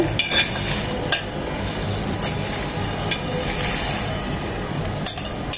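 Whole garam masala spices dry-roast in a pan, stirred over and over so they rattle and scrape with repeated sharp clinks of metal against the pan, close and fairly loud, with no voices.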